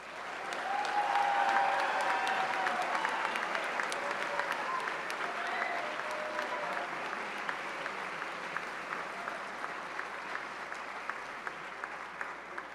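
Audience applause in a hall at a Danville High School graduation ceremony, a broad sustained wash of many clapping hands that swells early and then holds steady, slightly distant, with individual claps poking through.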